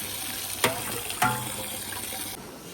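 Black gram lentils are washed in water, with a soft continuous splashing and running water broken by two sharper sloshes, fairly close and quiet.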